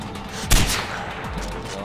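Gunfire in the Far Cry 4 video game, with one sharp loud shot burst near the start followed by a rumbling echoing tail and quieter distant reports.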